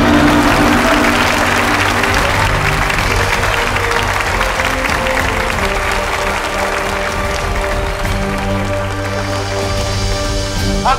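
Sustained applause from a studio audience fills a televised Thai cooking competition after time runs out on both teams, a dense steady clatter of many hands with tonal background music running underneath.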